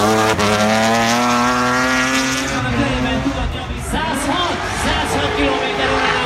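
A drift car at the Drift Allstars Trackwood 2016 qualification run holds steady throttle, its engine drone loud and sustained with shifting pitch, while Hungarian commentary runs over it throughout.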